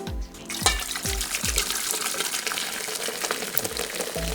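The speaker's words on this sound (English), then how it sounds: "Ginger beer, you're gonna need 4 of them." Ginger beer pours into a Moscow Mule cocktail, a fizzy liquid stream with several distinct glugging splashes as it fills, close and fairly quiet.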